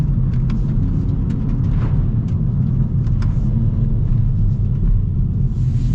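A 2024 Kia Forte GT with a dual-clutch gearbox accelerates on a wet road, giving a steady, loud low engine and road rumble with faint tyre hiss and no clear rev peaks.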